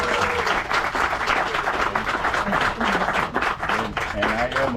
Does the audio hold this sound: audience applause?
yes